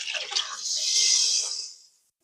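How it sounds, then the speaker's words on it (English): Water with a bouillon cube poured into a cooking pot, a steady close pour that swells for about a second and then stops. "So I'm adding 2 cups of water with a bouillon cube in here."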